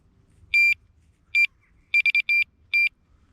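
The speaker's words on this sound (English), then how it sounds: "good old trusty alarm." A Delkin Plus vibration-sensor fishing bite alarm beeps loudly and close, with six sharp tones in an irregular pattern: two single beeps, then a quick cluster of three, then one more.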